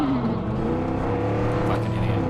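A video game truck engine revs while stuck, a steady, fairly loud mechanical drone with wavering tonal harmonics and a slight rise near the end, heard alone.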